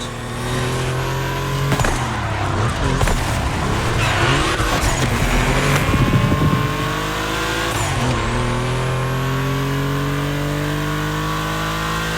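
Cars race around a track in The Crew Motorfest, a half-German, half-Japanese Volkswagen pairing, with steady engine drone, rising revs and brief tire squeals throughout, loud and continuous.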